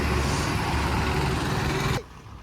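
A 50-seater tourist bus pulls away on a pilgrimage trip, its loud engine rumble steady and close, then cutting off abruptly near the end.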